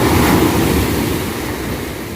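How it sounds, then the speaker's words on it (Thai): Ocean waves surge and crash onto the shore at Bang Saray Beach, Sattahip, Chonburi, in a broad roaring wash, loudest at the start and easing slightly, with wind noise over the microphone. "ฟังเสียงคลื่นซัดสาดเข้ามา"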